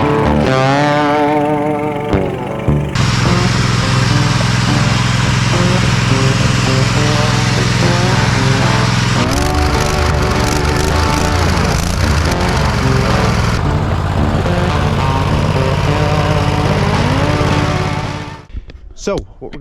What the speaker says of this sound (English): we're going to do a little test and tune with the motor there, get it tuned up, and just see how it'll run.